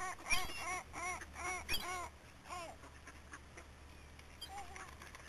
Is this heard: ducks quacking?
yes